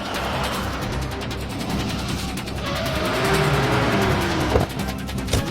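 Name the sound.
car being driven fast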